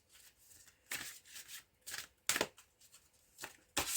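Oversized modern oracle cards are shuffled by hand in a series of brisk, close riffling bursts with short pauses between them, soft overall.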